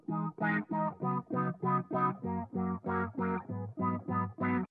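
A rhythm electric guitar strums a simple chord progression in short, evenly pulsing chops shaped by an LFO effect, each chord swelling and cutting off in a steady rhythm, moderately quiet and alone.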